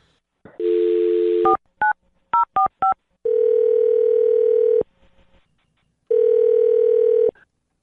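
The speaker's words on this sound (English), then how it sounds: "I'll dial his phone number right now." Steady dial tone, then a quick series of touch-tone beeps as a number is keyed in, followed by two long ringback tones with a pause between.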